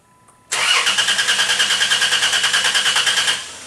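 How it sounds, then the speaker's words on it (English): A car starter cranks the engine during a starter health test, a loud rapid rhythmic chug of about fifteen even compression pulses that starts abruptly and stops without the engine catching. "We're going to crank the engine again."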